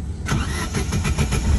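An old car's engine cranks and catches, its starter chugging in a quick rhythmic series of about eight pulses, loud and close, over a low rumbling motor.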